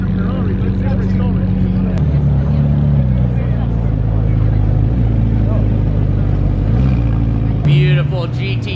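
A Porsche 911 GT2 RS rolls past at a supercar gathering, its loud, close engine holding a steady droning tone that dips and shifts in pitch, with a brief sharper burst near the end and crowd chatter running underneath.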